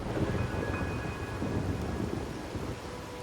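Steady rain and a low rolling rumble of thunder fill a scene in the video game Wuthering Waves, a constant soft wash of downpour with no voices.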